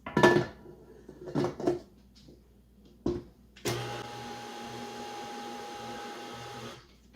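An electric mixer whirs steadily at close range, blending flour mixture into wet cake-pop batter, preceded by a few clinks and knocks of bowl and utensils.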